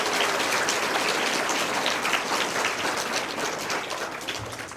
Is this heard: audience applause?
yes